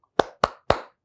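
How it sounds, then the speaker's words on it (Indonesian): Hands clap in a children's clap chant: three crisp, evenly spaced claps ring out alone in a quiet room, close and clear. "Coba tepuk dulu ya."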